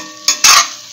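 Okra fried in oil in a home kitchen pan, heard as two close, loud bursts of sizzling and stirring within about a second, with no talking.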